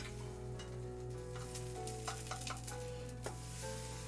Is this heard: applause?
no